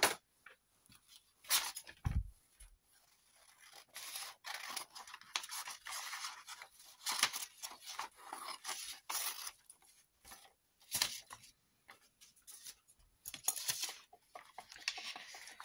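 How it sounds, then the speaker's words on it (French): Scissors snipping through a sheet of sheet music or book page to cut out junk journal ephemera, heard as quiet scattered scratchy cuts and paper rustles in a hushed room, with no talking. "Tu prends des ciseaux."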